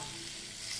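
Boiled drumstick pods sautéing over low heat in a pan with oil and crushed peanuts, giving a soft, even sizzle close by with no talk.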